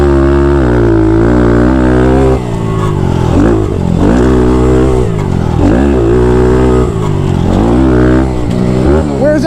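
A Thumpstar TSX140 pit bike engine revs up and down repeatedly on a track, a loud, close four-stroke drone rising and falling in pitch with each throttle blip.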